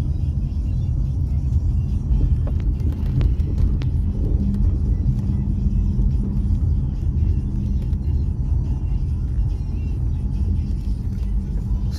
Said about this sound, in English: we got the traffic here with the bridge